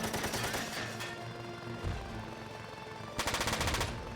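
Rapid bursts of machine-gun fire in the video game Front Mission 4, loud and close, with a dense rattle at the start and another burst near the end.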